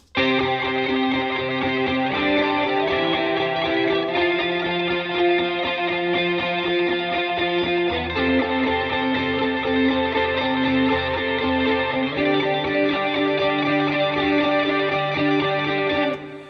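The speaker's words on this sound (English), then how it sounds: "So all of these 3 guitars, which are new in the composition, sounds like this together." Three distorted electric guitars playing together in layered chords and melody, dense and steady with chorus and echo effects, loud throughout without any voices.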